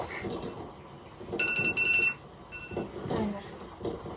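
A kitchen timer rings in short bursts of bright electronic tone during a morning breakfast of eggs, with household background noise and occasional voices nearby.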